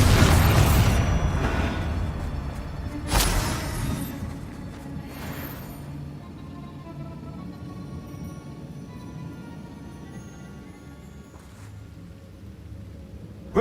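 A Bombarda spell explodes in Hogwarts Legacy with a loud boom, a second sharp blast a few seconds later, and a long rumbling decay that fades into quiet game ambience.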